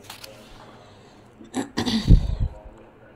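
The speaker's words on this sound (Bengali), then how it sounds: "ওই জন্য একটু পর পর কাশি দিতে হয়" A couple of short, harsh coughs burst out close by after a quiet stretch, with a rough throaty sound trailing off.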